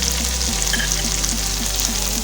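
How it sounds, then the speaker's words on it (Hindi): Salt, turmeric, crushed chillies and dry coriander fry in hot oil, a close, continuous sizzle with light stirring and a low hum underneath. "इस मसाले में अच्छी तरह से भूनेंगे।"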